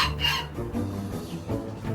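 Chickens cluck and squawk close by in short, uneven bursts, with a brief higher call near the start, in a noisy barnyard jumble.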